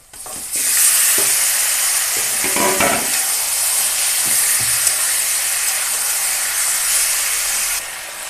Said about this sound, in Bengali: পেঁয়াজটা ভাজা হয়ে গেছে এখন মশলা মাখানো মাংসটা ঢেলে দেব